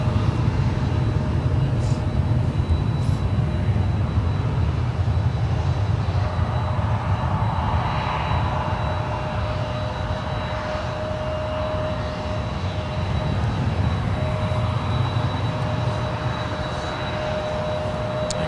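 Jet aircraft including a FedEx plane lining up on the runway at San Francisco International Airport, a continuous loud engine roar with a steady whine, unbroken and without talk.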